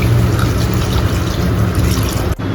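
Water pours steadily into a cooking pot in a continuous close, loud rushing stream, briefly interrupted near the end, as two cups are added for biryani.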